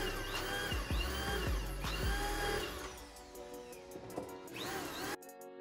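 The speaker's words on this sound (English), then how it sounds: "I went with the same process of stacking the plates and drilled my other side" A power drill whines up and down in repeated bursts, biting into stacked metal plates close by, then winds down and stops abruptly.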